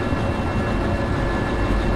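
Steady train rumble from Derail Valley, a railway simulation game, running uphill with a continuous low roar of rolling wheels and engine, unbroken and fairly loud throughout.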